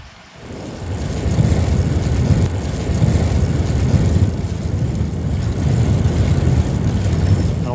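A car rumbles through an old railway tunnel converted into a road, a steady low engine drone filling the enclosed space and echoing evenly throughout.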